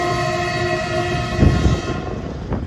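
A train rumbles past nearby with a sustained, tonal horn-like drone, then the noise dips and fades as it moves on.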